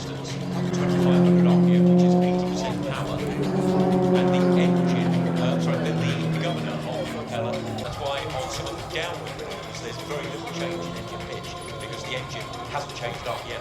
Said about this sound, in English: Powerful bicoming engine coupled with a four-bladed constant speed prop made by MT Propellers of Germany.